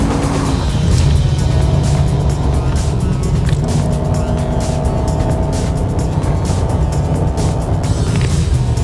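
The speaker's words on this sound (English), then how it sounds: "It's a super fun car to drive. It makes all the right noises" A 1988 Holden Walkinshaw performance car drives past or along, its engine a steady loud drone with tonal hum and road noise, no speech heard.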